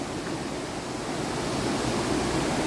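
Waterfall stream water rushing over rocks near the Murti River in the Dooars, a dense, constant broadband roar that stays steady and close throughout, with no voices.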